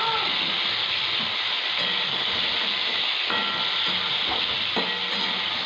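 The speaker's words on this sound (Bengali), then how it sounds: "দু তিন মিনিট ধরে ভালোভাবে নাড়াচাড়া করে চিংড়ি মাছগুলো হালকা করে ভেজে নিতে হবে।" Shrimp for lau-chingri frying in a pan, with a steady loud sizzle and hiss and occasional stirring knocks throughout, no talk.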